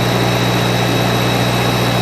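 A 1953 Farmall Cub tractor engine with a warped carburetor runs close by, a loud, steady drone with a constant low hum and a whining tone above it.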